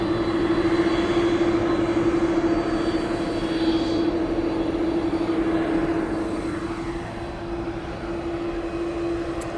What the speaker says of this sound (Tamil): இது டேக் ஆஃப் ரெடி ஆகுது